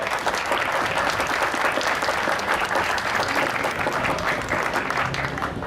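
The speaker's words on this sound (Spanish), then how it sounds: "Un fuerte aplauso para él." Sustained audience applause fills a hall at the Trujillo book fair, dense and steady throughout, with a faint murmur of the crowd underneath.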